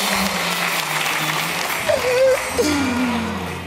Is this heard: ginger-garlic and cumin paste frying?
no